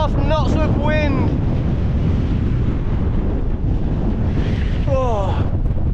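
Strong wind buffets the microphone on a Welsh coast, a steady roaring rumble that fills the whole clip, with brief bursts of a voice near the start and again toward the end.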